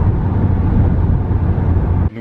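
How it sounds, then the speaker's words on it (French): Steady low rumble of a small taxi driving at dawn in Cappadocia, Turkey, on its way to the bus station, engine and road noise continuous and close, cutting off abruptly near the end. "Ça part sur un petit taxi matinal pour rejoindre la gare routière"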